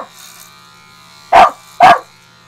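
Two sharp dog barks, loud and close together, ring out in a quiet room during a head-shaving session, separated by a short pause.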